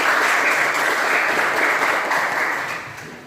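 An audience of students in an economics class bursts into dense, continuous applause that holds steady, then fades toward the end.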